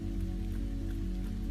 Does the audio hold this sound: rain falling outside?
yes